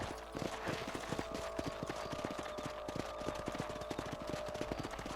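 Horse hooves clip-clop steadily at a brisk trot while riding in the Red Dead Redemption video game, the rhythmic beats fairly close and continuous over a bed of ambient game sound.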